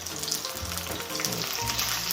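Steady, close sizzling and crackling of battered chicken frying skin-side down in vegetable oil, a continuous bubbling hiss with no talking.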